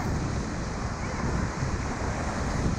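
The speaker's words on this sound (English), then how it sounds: "We are going to be paddling through breaking waves" Breaking ocean surf rolls in as a continuous low roar with heavy wind buffeting the microphone, the crash of the waves steady and close throughout.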